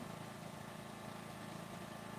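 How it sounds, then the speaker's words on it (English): A neighbor's chainsaw runs somewhere outside, heard as a faint, distant, continuous engine drone that holds steady throughout, with no voices. "Sounds like the neighbors out there getting busy with the chainsaw"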